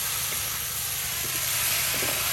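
Pangas fish pieces and potatoes fry in a pan, a steady close hiss of oil with faint crackles running throughout, no voices.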